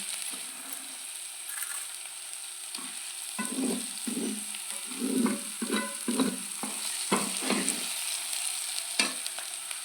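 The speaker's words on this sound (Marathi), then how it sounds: "एक दोन तीन मिनिट आपण ही टमॅटो प्युरी परतून घेणार आहोत" Tomato puree for paneer masala sizzles in oil in a pan, with a soft steady fry and irregular stirring scrapes growing busier midway; nobody speaks.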